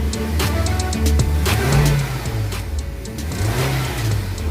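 A Nissan Almera engine with loose compression revs repeatedly, rising and falling with a slightly uneven, loose-sounding pulse, loud and close throughout.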